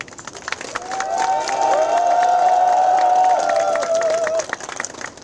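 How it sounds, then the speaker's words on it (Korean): An audience at a Korean union officer election rally breaks into applause and cheering, swelling from scattered claps into a loud, sustained crowd roar with whoops before tapering off after about four seconds. "많은 박수로 환영해 주십시오."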